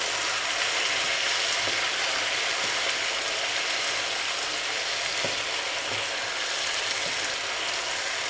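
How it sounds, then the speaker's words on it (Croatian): Potatoes and onion fry in a pan, giving a steady, close sizzle and crackle throughout with a few faint clicks. No talking. "Dok krompir se prži i luk, ja pripremam"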